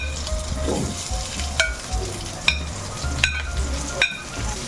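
Garlic and onion sauté in a hot pan with a continuous close sizzle, punctuated by a few sharp clicks and scrapes of a utensil stirring.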